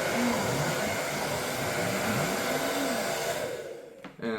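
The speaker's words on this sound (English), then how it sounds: "these windmills, which will be blown by the hair dryer, which represents wind" A hair dryer blows steadily on small model windmills, a loud continuous whooshing drone with a wavering tone that cuts off abruptly near the end.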